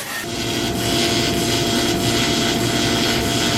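A damaged SR20DET engine part spun by a blast from an air hose gives a loud, steady whooshing whine that holds without a break from start to finish.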